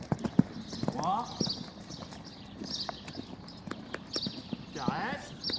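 A horse cantering in a riding lesson over jumps, hooves clip-clopping in a faint, regular three-beat rhythm while an instructor talks over it and a snort or whinny sounds.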